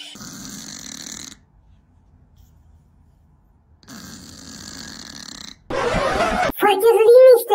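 A cat snores in two long, steady, rasping bursts separated by a quiet pause, followed by a loud, noisy burst and then a person's voice speaking close by.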